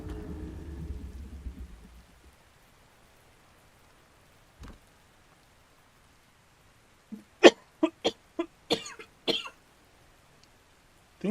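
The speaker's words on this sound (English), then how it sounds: "I've been coughing the entire evening." A person coughs in a quick burst of sharp, close coughs after a long quiet stretch, preceded by earlier rumbling noise and a single isolated cough; no talking.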